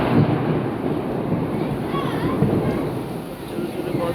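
Thunder rolls during a heavy rainstorm that ends a long heat wave. A dense, steady roar of rain and low rumble fills the whole stretch at a loud, close level.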